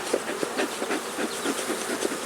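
A dense, steady buzzing of many honeybees close by around a hive, with individual insects droning in and out over a continuous hum.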